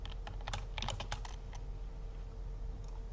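Quick, close keystrokes tap out a name on a computer keyboard in a burst of irregular clicks, then trail off into near quiet with only faint hum.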